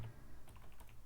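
Code being typed on a computer keyboard, a quick run of light, close key clicks in an irregular rhythm over a steady low background hum, with no talking.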